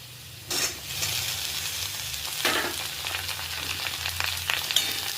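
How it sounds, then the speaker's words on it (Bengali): Potatoes fry with onions in a pan, a steady close sizzle punctuated by several sharp bursts and scrapes as the pieces are stirred and turned. "আলুগুলো লাল লাল করে একটু ভেজে নেব পেঁয়াজের সাথে"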